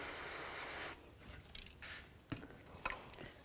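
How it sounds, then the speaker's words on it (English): Rust penetrant is sprayed onto a front CV axle part on a 1996-2004 Nissan Pathfinder, giving a steady, close hiss for about a second, followed by quiet handling rustles and a couple of small knocks. "I'm just going to take a little rust penetrant and spray this down."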